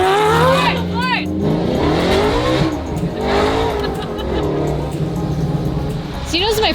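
A Lamborghini Murcielago V12 fitted with a Motec exhaust system and standalone fuel management revs loudly and close by, its pitch climbing and falling in repeated sweeps, with voices partly audible over it.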